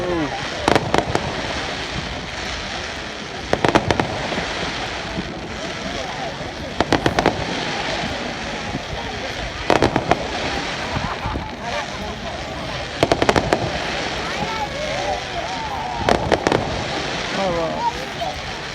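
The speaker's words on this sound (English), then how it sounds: "Hey, firework." Fireworks burst repeatedly along Poole Quay at night, sharp loud bangs every few seconds over a steady crackling wash, with people talking and reacting throughout.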